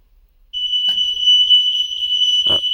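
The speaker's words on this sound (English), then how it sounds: "all the alarms will sound" Aico radio-linked smoke alarms sound during a test with an Ei450 RadioLINK alarm controller. A loud, steady, piercing alarm tone starts abruptly and holds, with a couple of brief knocks underneath.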